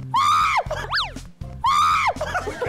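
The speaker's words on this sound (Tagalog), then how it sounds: "May kasamang sigaw!" A person lets out two long, loud, rising shrieks while flipping a mango crepe, with a sharp whooping yelp between them and other voices reacting in the background.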